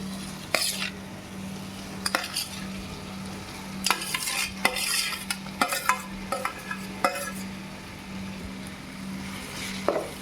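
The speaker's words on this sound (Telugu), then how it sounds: "మొత్తం ఇలా మిక్స్ చేసేసుకోవాలి." Mashed potato being stirred and mixed into a pani puri filling in a bowl, with intermittent scraping and clinking strokes of a spoon against the vessel, close and moderately loud, no voices.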